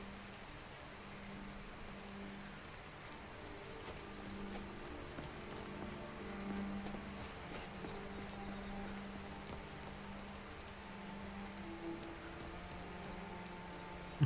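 Video game rain from a heavily modded game, a steady, soft hiss of drops on surfaces with a faint low tonal hum underneath, continuous and unchanging throughout.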